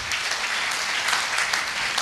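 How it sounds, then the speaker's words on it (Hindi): An audience at a business success-story speech event claps loudly and steadily, a dense, continuous burst of applause with no voices over it. "चाहूंगा कि जोरदार ताली हो जाए"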